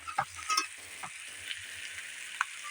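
Chili and turmeric powder frying in a pan for a snakehead fish curry with snake gourd, a soft steady sizzle with a few quick spatula scrapes and stirs, fairly quiet and close.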